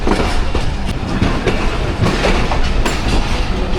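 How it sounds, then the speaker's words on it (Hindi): Shah Hussain Express pulling out of Kotri Junction in Pakistan, heard from on board as loud, continuous rumbling with rapid clickety-clack of wheels over rail joints. "कोटरी जंक्शन से निकल गई हमारी ट्रेन।"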